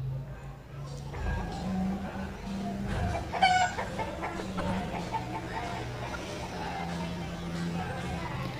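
A hen clucking in a children's alphabet song with Hindi in its title, a few short clucks over a steady, fairly loud background.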